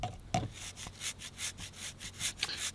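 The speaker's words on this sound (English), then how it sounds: "Grate your palm sugar so it dissolves quicker." Palm sugar is grated by hand for a tamarind and chilli sauce, a repeated rhythmic rasping scrape of about ten quick strokes, close and alone.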